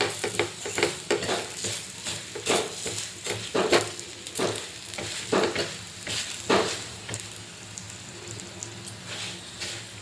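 Chapati with a little oil cooking on a hot pan: soft sizzling under a run of light, irregular taps and scrapes from a spatula, fading toward the end.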